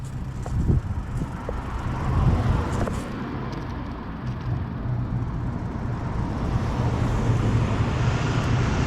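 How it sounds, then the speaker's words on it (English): Road traffic near a trail in Fountain, Colorado, heard from a recumbent bike: a steady broadband roar of passing cars with a slight swell, wind buffeting the microphone throughout. "You got lots of cars."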